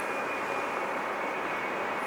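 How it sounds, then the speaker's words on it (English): Boeing 777 jet engine on an Air France airliner departing for Paris Charles de Gaulle, a steady, loud broadband roar with a faint high whine, continuous for the whole stretch with no talking. "I heard a 777 engine, so sure enough, there's the Air France"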